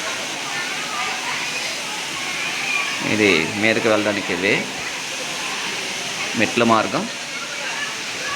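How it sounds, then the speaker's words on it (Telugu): Mettagoda waterfall cascading down in a natural setting, a constant broadband rush of falling water heard steadily throughout, with a person talking over it in two short passages. "అద్భుతమైన వాటర్ ఫాల్స్, నేచురల్గా అలాగ మీద నుంచి కిందకి అలా జాలువారే అత్యంత అందమైన జలపాతం మెట్టగోడ జలపాతం"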